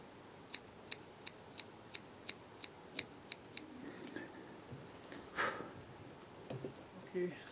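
Small scissors snip fly tying thread trimmed on the body of a fly, about ten quick, crisp, regular cuts close by, then quieter handling sounds.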